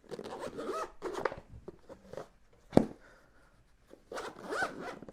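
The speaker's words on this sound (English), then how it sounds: "The zipper, you see, are not exposed, so they're water resistant and dust resistant as well." Zipper of a GoPro Hero 10 carrying case pulled open in a few quick rasping strokes, close and fairly loud, with brief pauses between them.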